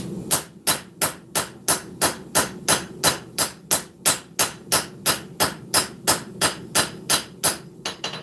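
A hammer's straight peen forging a knife blade on an anvil, about two dozen sharp, ringing metallic strikes at a steady, brisk rhythm, loud and close with no talk.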